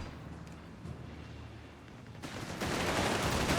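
Gunfire in the WWII strategy game Company of Heroes 3, a steady rattling fusillade that swells suddenly louder and denser near the end, with no voices over it.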